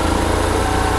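A BMW R1150RT boxer motorcycle engine idles steadily up close, a low even throbbing rumble with no talking.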